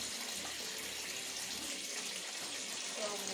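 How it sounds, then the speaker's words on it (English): Running tap water pours steadily into a sink while vegetables are washed, a continuous, soft splashing stream heard fairly close and low in level throughout. "you would better off wash with running water"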